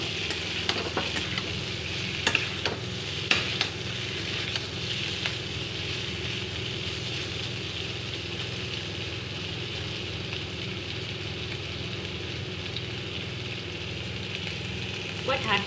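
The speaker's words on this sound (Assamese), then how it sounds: "ঢাকি নিদিয়াকৈ মই ফ্ৰাই কৰি আছোঁ" Cauliflower stir-frying uncovered in a pan for an Assamese fish curry, a steady sizzle with a few scraping stirs early on, then an even frying hiss with a low hum behind it.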